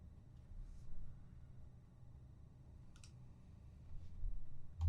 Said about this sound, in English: Right click, content aware fill.